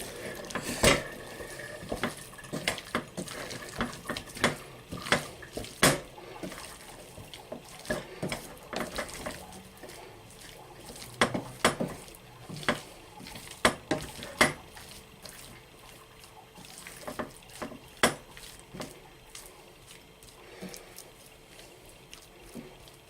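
Strained, washed kidney beans stirred into a potato and kidney bean pie mix in a pot, with scattered clinks and scrapes of a spoon against the pot over a soft bubbling background, no talking.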